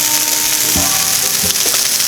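A thin cod fillet pan-fries in a hot pan with a steady, close hiss of sizzling oil, broken by a few soft knocks and clatters of utensils against the pan.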